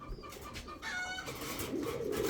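Shadel Huma pigeons coo in soft, throaty bursts close by, with light rustling and background noise around them.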